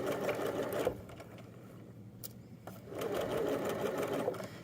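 A domestic sewing machine stitches around a joggers waistband in two close, steady whirring bursts, with a quiet pause between them and no voice heard.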